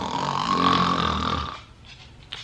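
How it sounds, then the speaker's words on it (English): A man snoring loudly during an afternoon nap on a couch, one long rasping snore that fades out, followed by quiet room tone with a faint soft thump. "Yes, I snore. And when I snore, it's loud."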